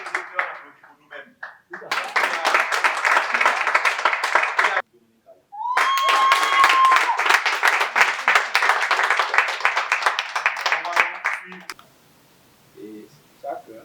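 Speech is followed by bursts of loud audience clapping at an anniversary celebration, two long rounds of dense applause separated by a brief gap with a whistle-like tone, then fading into quiet talk at the end.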